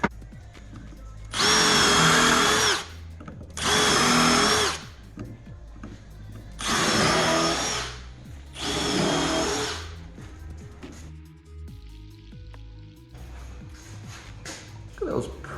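A power drill drives screws into a wooden box built as a car stand, four loud whirring bursts of about a second each with short pauses, followed by quieter handling noise.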